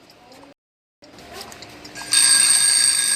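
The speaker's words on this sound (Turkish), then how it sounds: "Saat çalıyor." A clock rings inside the horror video game Specimen Zero, a bright, continuous high ringing that starts suddenly near the end and stays loud over earlier muffled game sounds.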